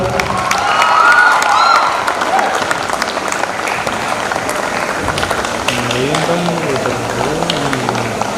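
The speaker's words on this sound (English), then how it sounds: "Applause, girls." At the Ashoka Saachi Award 2024 ceremony, a crowd claps loudly and steadily for guests coming up to the dais, with voices talking over the applause toward the end.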